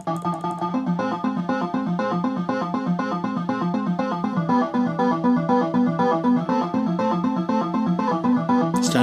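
A Korg Kaossilator Pro synthesizer plays preset C103, a busy, steady arpeggiated pattern of rapid repeating notes that runs loud and continuous throughout, with no voices.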